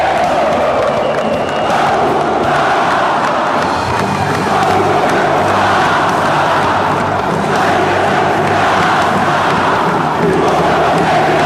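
Cruzeiro fans sing and chant together in a packed stadium, a loud, sustained mass of voices with shouts rising over the steady roar.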